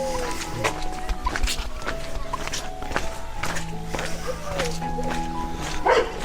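Dogs bark and yip in short bursts at a moderate distance in a village in Bulgaria, mixed with footsteps, thuds and people talking nearby.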